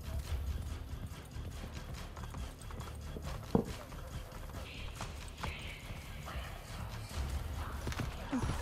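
Hooves clop in quick rhythm as a horse runs in Assassin's Creed Brotherhood, a moderately loud gallop mixed with game ambience, a sharp knock, and a brief whinny-like sound in the middle.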